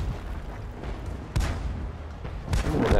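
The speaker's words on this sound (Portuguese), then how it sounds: "artilharia" Heavy booming artillery blasts from World of Tanks, two or three deep impacts over a low rumbling battlefield background, fairly loud and close.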